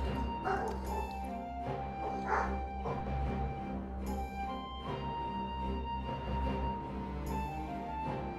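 Dogs bark in Final Fantasy XIV, with repeated short yaps and barks in scattered bursts over steady in-game ambience and music.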